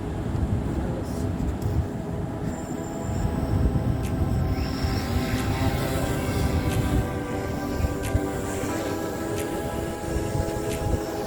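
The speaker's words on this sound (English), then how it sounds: "The drone went high, really high," A homemade drone built from an Xbox, with an iPhone attached, flies with a continuous loud motor and propeller drone and wind rush, plus a few faint clicks.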